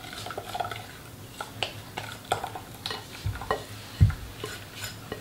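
A utensil stirs a praline cream mixture in a small saucepan over the heat, with soft scraping and light clinks against the pan recurring irregularly, close and moderately loud.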